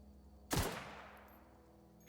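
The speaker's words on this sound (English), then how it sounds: "I'm gonna shoot this man in the face." A single loud gunshot in The Outer Worlds game, a sharp blast that rings out and fades over about a second, with nothing else around it.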